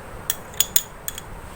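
A metal spoon taps and clinks sharply against a glass four or five times while aloe vera gel is added to a weight-loss drink, each small clink crisp and close with quiet pauses between.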